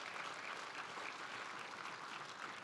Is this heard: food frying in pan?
no